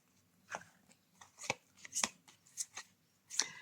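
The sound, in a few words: handling tarot cards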